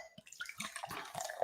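Hacker-Pschorr Oktoberfest Märzen beer poured into a glass, a close, uneven run of gurgles and splashes that builds slightly toward the end.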